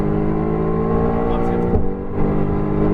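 Mercedes-AMG GT R engine pulling hard at full throttle on a racetrack at Exotics Racing in Las Vegas, a loud steady in-car roar with a brief dip around a shift, while an instructor talks over it.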